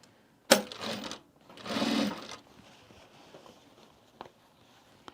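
A sewing machine stitches bag binding through a binding attachment in two short bursts, the second longer, with a sharp click at the start and faint handling noises afterward, fairly quiet and close.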